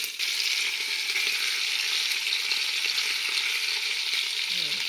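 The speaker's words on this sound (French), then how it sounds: "Quand l'huile est bien chaude, on met la viande." Lamb meat frying in hot oil bursts into a loud, dense sizzle that starts abruptly and holds steady, close and unbroken for the rest of the clip.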